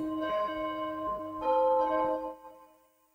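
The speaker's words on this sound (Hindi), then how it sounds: "घंटी बज गई है भाई" An electronic bell chime sounds during an online reasoning class, a clear ringing tone held for a couple of seconds in steps before fading out, with no voices over it.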